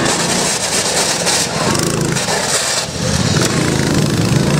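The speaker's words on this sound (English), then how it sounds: "So Junkstar just got the governor out of his high-speed tractor" A high-speed tractor mower with its governor removed runs loud and continuous at close range, a steady high-revving engine roar that holds throughout.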